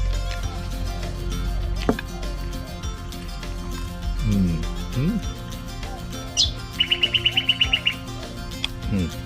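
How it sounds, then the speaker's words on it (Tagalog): Birds chirp and tweet in a backyard with scattered short calls and one quick rapid trill, moderately near, over steady background noise and occasional clinks. "Mayroon pa mga bird dyan na umuhuni mga pangga kasi nasa backyard tayo."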